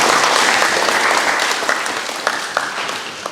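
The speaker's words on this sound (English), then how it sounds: "All right, round of applause, Thank everyone." An audience at an electric vehicle association meeting in Queensland gives a round of applause, with steady clapping and a few sharper individual claps standing out near the end.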